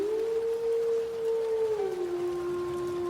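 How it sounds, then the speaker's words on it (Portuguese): A single long, smooth wolf howl that holds a steady pitch and then slides down a little lower, sustained for about three seconds over a faint hiss, fairly clear and mid-distance. "Os lobos se aproximaram. A lua estava cheia e todos uivaram."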